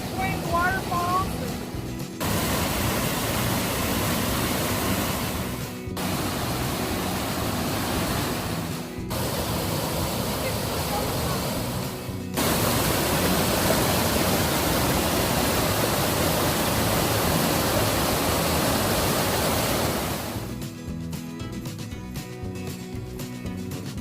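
Steady roar of a waterfall rushing over rocks along Porters Creek in the Great Smoky Mountains, loud and continuous, with brief quieter breaks and a voice speaking near the end.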